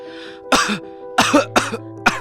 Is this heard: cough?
yes